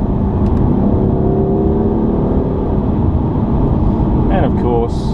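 A BMW M4 drives on a dry road, its engine a loud, steady drone with road rumble filling the cabin and a faint rise in pitch toward the end.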